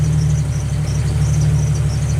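A Jeep Wrangler YJ engine settles back to its factory idle speed after a hand throttle is released, a steady low, even rumble holding close and loud throughout with no talk over it.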